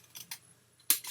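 Scissors cutting paper to make the bottom of a box, a few quick soft snips spaced apart, close and quiet, the last one sharper and louder.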